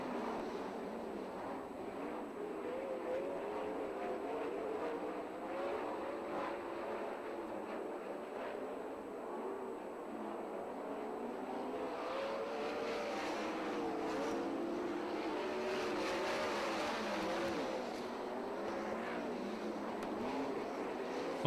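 A pack of sprint cars racing at Perris Auto Speedway sends up a continuous, somewhat distant engine roar that swells louder in the second half as cars pass.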